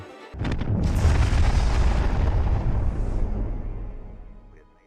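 A massive explosion of the first atomic bomb test at 5:29 a.m. erupts suddenly, a deep roaring boom that rolls on for several seconds before slowly fading away.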